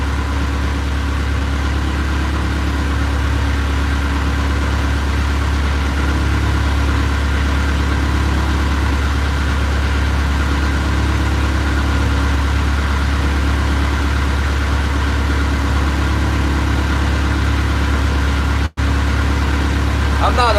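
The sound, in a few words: fishing boat engine running at raised RPM while salmon trolling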